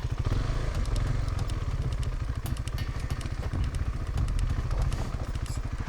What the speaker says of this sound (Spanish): Empezamos a escuchar un ruido de la moto muy fuerte.